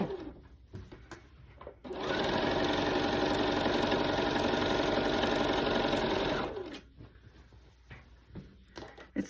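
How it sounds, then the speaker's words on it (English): A sewing machine stitches a table runner in one continuous whirring burst of about four and a half seconds, with quiet handling noises before and after. "I'm going to sew the other side."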